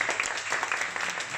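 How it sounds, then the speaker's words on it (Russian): Comedy roast audience applauding a performer coming up to the microphone, a brisk steady patter of many hands clapping, moderately loud and close, with no talking over it. "Аплодисменты."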